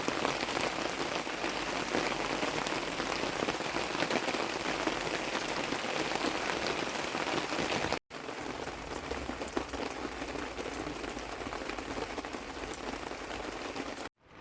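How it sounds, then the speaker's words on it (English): Heavy rain at a Cypress Lake campsite, a dense, constant hiss of drops with one short break partway through. No one speaks. "It rained for like a solid 4 hours"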